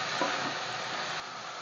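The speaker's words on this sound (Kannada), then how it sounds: "ಬದನೆಕಾಯಿನೂ ಸ್ವಲ್ಪ ಫ್ರೈ ಆಗಲಿ." Eggplant sizzles and fries with turmeric in a pressure cooker pan for vangibath, a steady soft hiss with light stirring scrapes near the start, close and fairly quiet with no talking.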